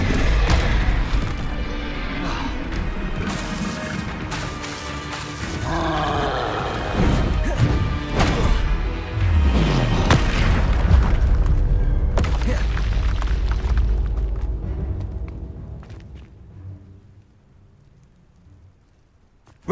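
Spell-casting combat in Hogwarts Legacy: loud magical impacts, crashes and booming explosions pile up in a dense barrage, with heavy thuds near the middle, then fading to near silence at the end.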